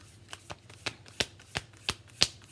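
Tarot cards shuffled by hand, giving a run of about eight short crisp riffling snaps at a steady pace, close and clear over a faint background hum.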